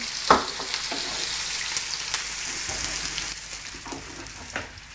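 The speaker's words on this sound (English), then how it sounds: "I'm going to sweat off some onion and garlic." Onion and garlic sweat in a pot for a fish stew, giving a steady close sizzle with a few sharp clinks and stirring scrapes, and no voices.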